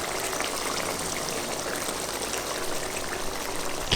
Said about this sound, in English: this is actually bubbling away quite high